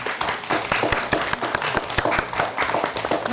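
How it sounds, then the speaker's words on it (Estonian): Audience applause after a children's Sylvanian Families stage show, steady dense clapping from a crowd at moderate distance, lasting throughout without pause. "Teeme veel kord aplausi näitajatele!"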